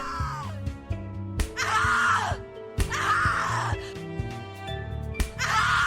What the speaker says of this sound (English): Scream your lungs out.